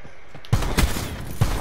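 Call of Duty gunfire, a sudden loud close burst of rapid shots after a quiet start, continuing as sharp repeated cracks.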